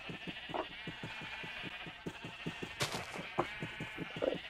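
Sheep bleat in a video game, several short bleats scattered over a soft, steady rhythmic pulsing background, all fairly quiet.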